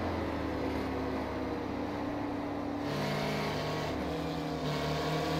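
Race cars in a racing video game at Watkins Glen drone with steady engine tones, the pitch shifting as they ease off and reapply throttle, loud and continuous with no talk.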